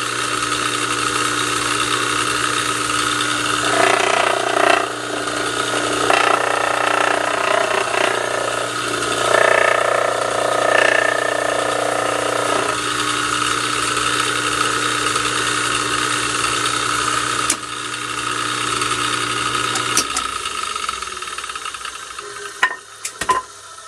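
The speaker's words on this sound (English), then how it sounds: "if there's any doubt about the power that this motor can create, it's very close to the full 2 horsepower output." A homemade three-phase rotary converter built from scrap runs a 2 horsepower electric motor, humming steadily with a constant low drone and intermittent rattling and scraping before the hum drops away near the end.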